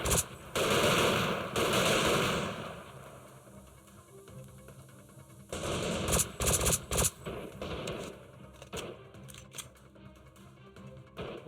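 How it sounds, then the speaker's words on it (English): Machine gun fire in the video game Freeman Guerrilla Warfare, several rapid bursts of gunfire separated by quieter gaps, with sharper scattered shots toward the end. "Where is that guy firing from?"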